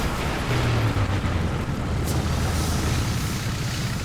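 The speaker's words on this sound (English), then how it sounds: "Oh, another air attack." A heavy explosion from an air attack in War Thunder, around an American M36 GMC tank destroyer, rumbles as a loud, sustained low roar that fills the whole stretch with steady booming noise.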